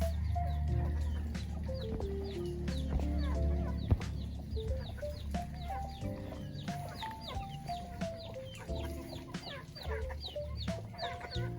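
Chickens clucking outdoors at a rural countryside home, with repeated close clucks and short calls from several birds over steady background noise and no talking.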